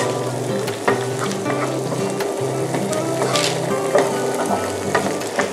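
Eggplant stir-fries in a hot pan for green curry fried rice with snakeskin gourami. A loud, continuous sizzle runs throughout, with irregular scraping and clacking of the spatula on the pan and no talking.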